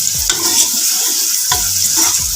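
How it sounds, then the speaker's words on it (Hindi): One kilogram of beef for karahi sizzles and fries in a pan while being stirred, a steady loud hiss broken by scraping stir strokes. "यहाँ पर हम शामिल कर देंगे बीफ 1 किलो, और इस तरह हम इसको अच्छे से मिक्स कर लेंगे और फ्राई कर लेंगे"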